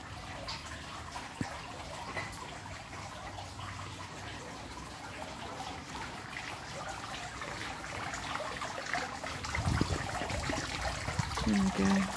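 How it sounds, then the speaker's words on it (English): Gentle splashing and trickling water runs continuously from a small waterfall in a local park nearby, with faint background sounds and a few louder splashes toward the end. "I just love the sound of the waterfall."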